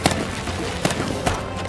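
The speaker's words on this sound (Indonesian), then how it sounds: "Saat sedang memberikan koordinat baru, mereka ditembaki musuh dan terjadilah tembak-tembakan." Gunfire in a firefight between American soldiers and Taliban fighters in the war film 12 Strong: a few sharp, loud shots burst out at irregular intervals over a steady rumbling battle background.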